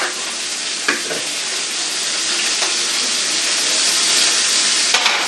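Deer heart frying in a hot pan, a loud continuous hiss and crackle close up, with a few faint utensil scrapes.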